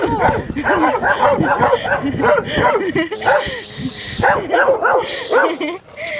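Several dogs bark repeatedly and loudly nearby in a steady, overlapping clamor, with occasional yips mixed in.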